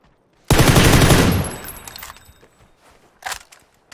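A Tommy gun firing in PUBG, one loud, close, rapid automatic burst lasting about a second that trails off into a ringing echo, followed by a short fainter burst of shots.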